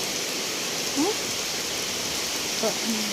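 Steady rain pours down in a broad even hiss throughout, while a voice speaks briefly twice beneath it.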